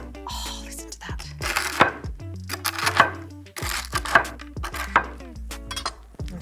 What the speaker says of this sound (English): I find it just easier with a serrated knife. I'm just gonna chop it into little chunks.